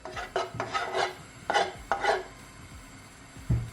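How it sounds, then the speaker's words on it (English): A sesame oil sauce is stirred in a bowl, giving several short scraping, rasping strokes at an uneven rhythm, close and moderately loud, ending with a soft knock and no talking. "Give it a stir."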